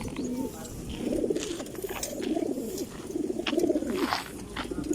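A flock of racing pigeons coos softly and continuously in low, rolling murmurs, with a few faint chirps mixed in nearby.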